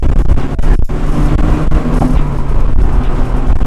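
A Honda VTEC car engine accelerates hard through the gears, heard as a loud, continuous roar and rumble from inside the car with steady wind and road noise.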